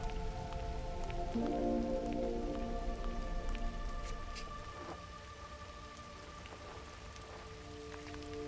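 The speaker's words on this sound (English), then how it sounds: "I love the sound of rain as well" Steady rain falls in the video game Gris, a soft continuous patter that carries through the whole stretch under a gentle sustained musical tone, easing slightly in level partway through.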